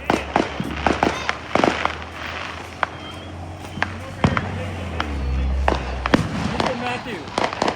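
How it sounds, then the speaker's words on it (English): Fireworks and firecrackers go off outdoors in a string of sharp, loud bangs and pops scattered through the stretch, with people talking in between the blasts. "I just wanted to record every firework in sight"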